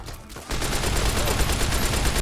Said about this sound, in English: Everyone is shooting me in this place